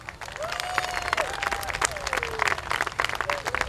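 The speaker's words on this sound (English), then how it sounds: "Let's give Palmdale School District a round of applause." An audience at a kindergarten and sixth grade school promotional ceremony breaks into lively applause with sharp individual claps and some cheering, under which a voice briefly talks.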